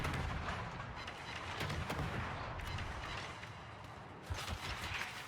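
Warship guns fire shells in the naval combat game World of Warships, producing a string of booming gunfire reports with a rolling rumble between the shots.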